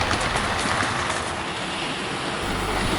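Hornby A4 model locomotive running with four teak coaches, a steady close-up rolling rumble and wheel noise that stays loud and continuous throughout.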